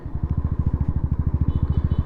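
A Royal Enfield motorcycle fitted with a MotoTorque Launcher Pro exhaust idles nearby, its deep, steady thumping pulses repeating rapidly and evenly throughout.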